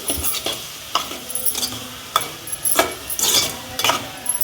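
Salted onions sautéing in a pan for a dried-fish curry, with repeated scraping stirs of a utensil against the pan over a soft, steady sizzle, close and fairly loud.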